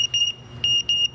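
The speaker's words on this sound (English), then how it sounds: "As soon as the A2 alarms are done, then I can turn off that alarm, just like on all Draeger meters." A Dräger X-am 3000 gas detector alarm sounds during calibration, a loud piercing electronic beep repeating in two or three short bursts with brief gaps, alone and close.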